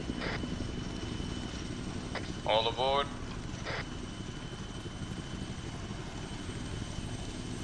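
A helicopter sits in the Arma 3 video game while a military team boards with a hostage, its steady rotor and engine drone running throughout under a short spoken line.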